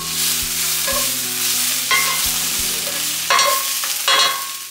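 Vegetables sizzle loudly in a hot pan for beef fajitas, with a steady frying hiss broken by several clattering stirs of a utensil against the pan.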